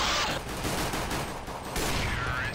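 Rapid gunfire in a first-person shooter video game, a dense, continuous burst of shots filling the whole moment, loud and close with no clear talking over it.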